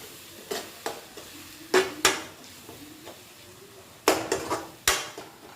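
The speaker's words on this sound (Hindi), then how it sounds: "अब ग्रेवी के एकदम नीक से भुजबे तक जाबे तक कि तेल नहीं छोड़ दे" Thick gravy for banana kofta curry being fried and stirred in a pan, with irregular scraping and clanking of a spoon against metal over a faint sizzle, no talking.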